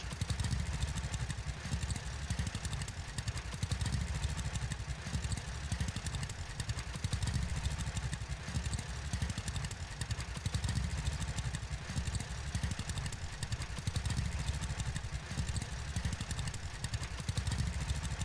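Steady, unbroken drone of a tractor engine in the farming game Farmers Dynasty, a running motor with constant rumble and clatter, loud and alone throughout with no talk.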